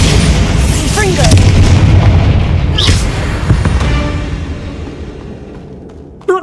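Bombarda and Confringo spell blasts in the Hogwarts Legacy video game, a loud run of booming explosions and crackling bursts over several seconds that slowly tail off, with a sharp pop at the end.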